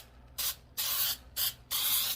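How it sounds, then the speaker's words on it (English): Cooking spray mixed with flour misted onto a 9- or 10-inch pie plate, four close hissing bursts of varying length separated by short pauses, with no talking. "I'm just spraying it"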